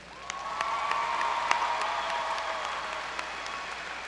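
Sustained applause from a graduation ceremony crowd honoring high school honor graduates, steady dense clapping with a few sharper individual claps standing out, moderately distant in a large hall.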